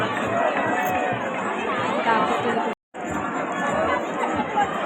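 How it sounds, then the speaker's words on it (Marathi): Busy crowd noise at a Ganesh immersion, with steady chatter and babble of many people near a fountain, briefly cut out once, and a nearby voice talking over it. "हे बघा एवढी गर्दी आहे तिकडे"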